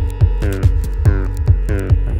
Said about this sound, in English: now we have two phaser effects interweaving with each other to create a super hypnotic kind of effect